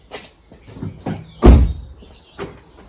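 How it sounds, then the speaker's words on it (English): A Fiat 500 Sport car door swings shut with a solid thud outdoors, preceded by handling noises and followed by a faint click. "Let's close the door"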